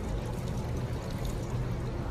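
Water poured into a mix of sugar, salt, egg and plantain for roti jala batter, a steady continuous pour heard close and alone, with no talking.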